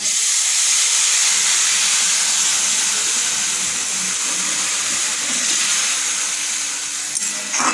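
Water added to a hot pan of fried prawns and masala, giving a loud, continuous hiss of steam and bubbling that slowly eases over several seconds, with no talking.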